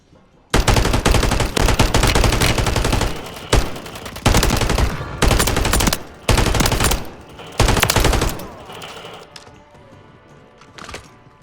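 Bursts of automatic gunfire in the Warzone video game, several loud rapid volleys separated by brief pauses, close and dominant, fading to quieter scattered shots at the end.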